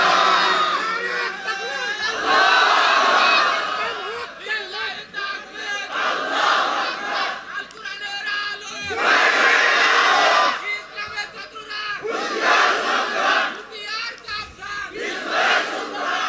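A large crowd at an outdoor Islamic religious gathering in Chapainawabganj shouts the takbir in loud unison, several surging collective roars rising and falling over about sixteen seconds, mixed with individual voices.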